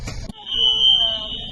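A fire alarm sounds in an airport terminal, a loud sustained high electronic tone that starts after a short burst of voices and holds steadily to the end.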